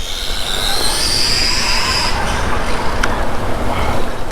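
A 1/16 scale RC car with a brushless motor runs at full throttle, its motor giving a steady, loud, high-pitched whine with rushing noise up close, rising in pitch briefly, with no voices.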